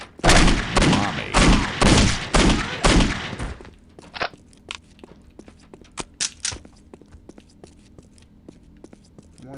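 Video game gunshots in a rapid, loud burst of automatic fire for a few seconds, then scattered single shots and small clicks at lower level with faint background noise.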